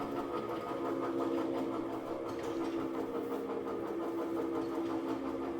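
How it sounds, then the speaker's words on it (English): A drill bores a large hole through a blank, leaving a thin wall of about an eighth of an inch, heard as a steady, continuous motor whine with a constant mid-pitched hum and no pauses. "That is one big hole that I'm putting through there."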